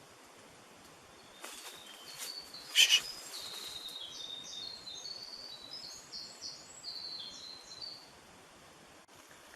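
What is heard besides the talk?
bird singing in the woods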